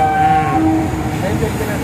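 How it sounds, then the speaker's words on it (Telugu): A train passes close by with a loud, continuous rumble and a sustained horn tone early on, with a voice faintly audible underneath. "సారీ ట్రైన్ సౌండ్ వస్తుంది"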